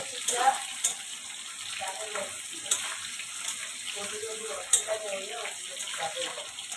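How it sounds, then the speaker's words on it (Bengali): Potatoes sizzle in hot oil in a pan while cooking a rohu fish curry, a steady crackling hiss with faint scattered pops running throughout. "আলুটা ফ্রাই হয়ে আসছে বন্ধুরা, দেখো।"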